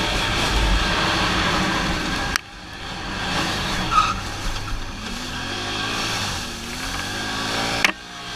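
2016 Can-Am 570 XMR off-road vehicle skids while braking, a loud rough engine and tire scrub that cuts off abruptly, followed by quieter engine running and a second short break.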